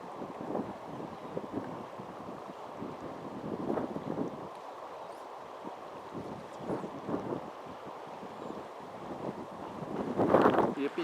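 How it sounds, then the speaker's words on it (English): Strong, cold gusts blow across the Arkansas River, buffeting the microphone in uneven rumbling bursts, with faint water movement beneath and a louder gust near the end. "It's extremely windy and cold enough that I had to put on my wading jacket."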